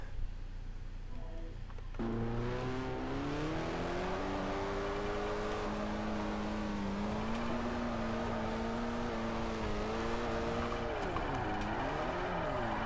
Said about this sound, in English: Now let's move on to some drifting.